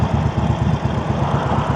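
A motorbike engine runs nearby with a steady, rhythmic low thrum and an even throb, with no voices over it.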